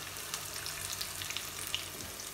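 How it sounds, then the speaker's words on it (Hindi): Curry leaves frying in hot oil in a home kitchen: a quiet, close sizzle scattered with small sharp pops and crackles. "कड़ी पत्ता डाल रहे मम्मी।"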